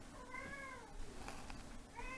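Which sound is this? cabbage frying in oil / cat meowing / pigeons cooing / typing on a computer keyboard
cat meowing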